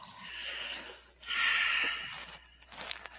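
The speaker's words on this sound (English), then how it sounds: "inhaling through the nose, letting it ground in deep in your lungs and body. And then exhaling through the mouth." Slow, deep breath drawn in through the nose, then a longer, louder exhale out through the mouth, close and alone.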